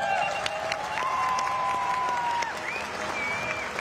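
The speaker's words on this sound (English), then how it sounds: "A lot of noise in the crowd for this man then." Crowd noise for a rider at the Red Bull Roof Ride finals, a sustained wash of applause and cheering heard from a distance, with a few whistles cutting through.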